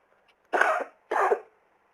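Two short, close coughs in quick succession, separated by a brief pause, in an otherwise quiet room.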